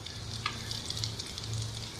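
Shami kababs coated in egg fry in hot oil with a steady, close sizzle and crackle, faint spattering bursting through now and then.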